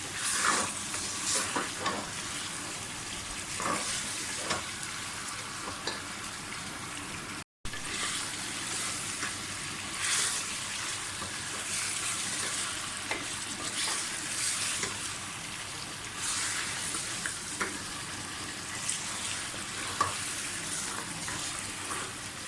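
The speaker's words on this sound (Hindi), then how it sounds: "चिकन को अच्छी तरह से फ्राई कर लें" Chicken frying for a degi-style qorma, a steady broadband sizzle with scattered stirring scrapes and clicks, close and continuous, with a brief gap partway through.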